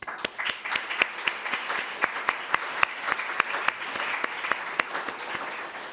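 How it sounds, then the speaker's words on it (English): An audience at an economics lecture applauds the guest speaker, with steady crowd clapping and distinct sharp claps punctuating a continuous wash of hands for several seconds. "we start with a big round of applause"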